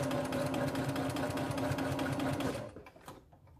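Sewing machine stitching a reversible face mask along the nose wire, running in a close, fast, steady whir of stitches for about two and a half seconds before stopping.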